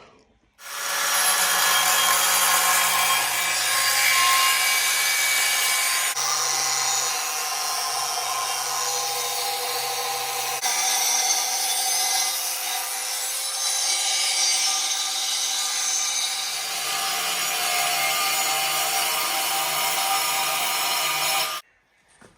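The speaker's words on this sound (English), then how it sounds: "I'll grab the grinder, cut that out" An angle grinder cuts through a metal offcut plate, a loud continuous harsh whine and grinding rasp lasting about twenty seconds before stopping abruptly.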